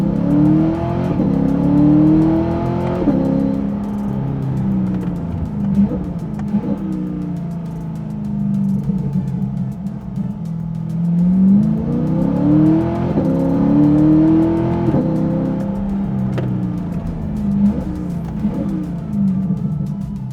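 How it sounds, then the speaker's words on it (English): A C8 Corvette in track mode with manual shifting revs up through rising upshifts, drops back on downshifts and burbles from the exhaust, in a loud, close engine cycle that repeats twice. "you hear some upshifts, some downshifts, you might even hear some exhaust burble."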